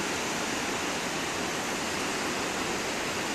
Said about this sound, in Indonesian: di malam hari ini menjelang sholat maghrib ini, air sungai Lekombi meluap.